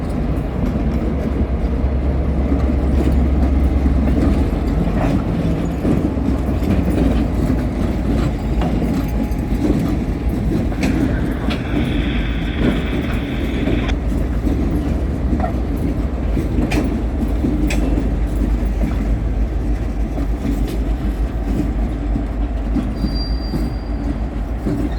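Norfolk Southern switcher slug set of GP59E locomotive, RP M4C road slug and GP38-3 rolling by at close range, a steady low rumble of engines and rail cars with faint wheel squeal, continuous throughout.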